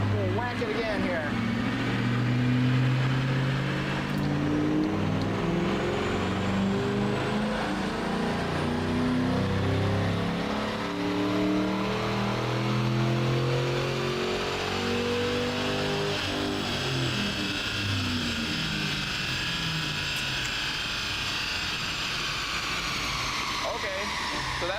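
A car with no mufflers revs hard through its gears, the loud raw engine note rising and falling in repeated pulls over about 25 seconds, climbing to a sustained high pitch near the end.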